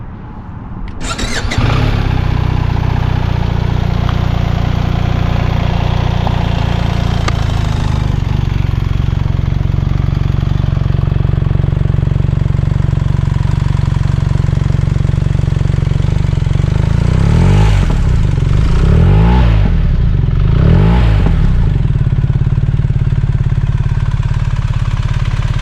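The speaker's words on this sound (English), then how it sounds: "Now I can start it and let you hear the muffler." BMW R1300GS GS Trophy Edition motorcycle with an opposed-cylinder boxer engine, in neutral, cranks and fires up loudly close by, then settles into a steady, throbbing idle through its muffler with a couple of brief blips of revving near the end.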